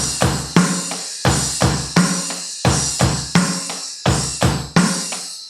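Drum kit playing a short graded-exam piece ending, with repeated sharp hits including two bass drum strokes at the start and cymbal wash, loud and close in a steady rhythmic pattern with no talking.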